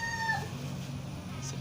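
A cat meows a few times while being fed, clear and fairly close, over steady low background rumble.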